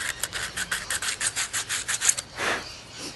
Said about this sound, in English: I'm sitting here sanding my pieces